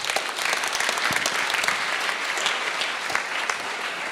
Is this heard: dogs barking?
no